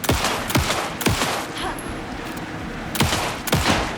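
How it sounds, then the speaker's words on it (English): Rapid gunfire in the video game Alan Wake 2, loud sharp shots in quick bursts with brief pauses, close and dominant throughout. "Anderson, pin him down with gunfire for me to get the light on him."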